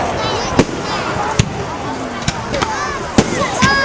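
Fireworks burst outdoors at night, sharp booming cracks repeating every second or so over a steady hiss of crackle and whistling streaks, with people chatting throughout.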